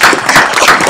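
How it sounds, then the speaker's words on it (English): A short burst of clapping and applause at a city council meeting, honoring casino developers, dense and close, lasting under a second. "Let's give them a round of applause."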